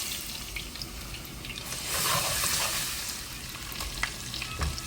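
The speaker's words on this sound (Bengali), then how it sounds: "এখন আমি খিচুড়ি রান্না করবো দিলাম আমি শুকনো মরিচ রসুন দিলাম" Dried chilies and garlic fry in hot oil for khichuri, a dense close sizzle with a brief louder crackling burst, then settling into a steady hiss with a few light clicks.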